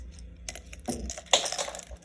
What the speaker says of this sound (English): Dropped a pen.